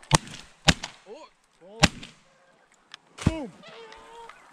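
Wild geese honking in short bursts during a goose hunt, with sharp cracks like shotgun blasts interspersed among the calls, the honks moderately near and separated by pauses.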